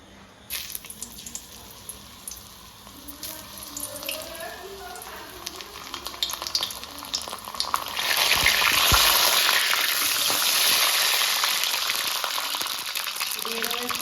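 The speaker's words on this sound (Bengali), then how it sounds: "এবার পটলগুলো হালকা করে ভেজে নেব" Pointed gourd (potol) frying in oil in a wok, with a soft crackle and stirring at first that swells into a loud, steady hiss of sizzling partway through, close up and with no one speaking.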